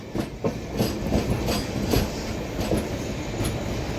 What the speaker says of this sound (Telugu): షంటింగ్ అవుతుంది బండి ఇంకా